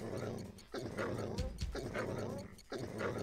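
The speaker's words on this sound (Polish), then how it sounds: "to sobie puścimy sobie pieski do załatwienia sprawy tutaj z nimi" Attack dogs bark and growl in the real-time strategy game Command & Conquer: Red Alert Remastered, a short burst of loud, close barking over the game's background noise.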